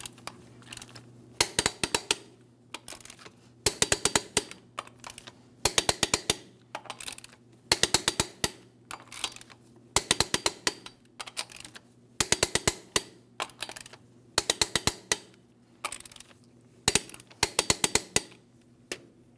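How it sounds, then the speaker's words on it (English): A torque wrench tightens the wheel lug nuts on a 2007-2014 GMC Sierra 2500 HD truck in a crisscross order. Rapid ratcheting clicks come in short, crisp bursts about every two seconds, with quiet gaps between them. "torque each of these lug nuts to 140 foot-pounds in a crisscross manner"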